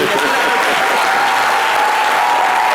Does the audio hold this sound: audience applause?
yes